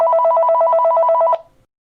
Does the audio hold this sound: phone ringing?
yes